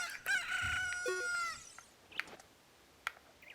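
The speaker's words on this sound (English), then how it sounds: "There's the chicken" A chicken crows in the video game Ocarina of Time, a single clear cock-a-doodle-doo lasting over a second, followed by a few faint clicks and quiet game sounds.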